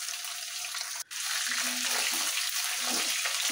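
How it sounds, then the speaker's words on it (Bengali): Chicken feet fry gently in oil over low heat for chicken manchurian, a steady close hiss of bubbling oil with a brief dip in the sizzle partway through. "এখানে আমি লো আঁচে এটাকে সুন্দর করে ভেজে নেব, যাতে উপর থেকে ক্রিস্পি হয় আর ভেতর থেকে নরম হয়"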